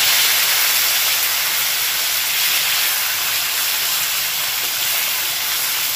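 Steady, loud sizzling hiss fills a clay pot as two large tomatoes go into hot frying spices for khichuri, a dense frying sound with no break and no voices.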